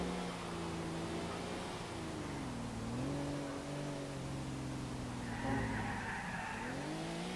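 A car skids and slides with sustained tire squeal in the GTA IV video game during a street race, the screech wavering continuously over steady engine drone, loud and close.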